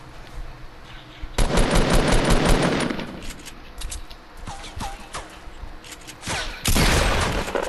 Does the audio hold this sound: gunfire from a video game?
yes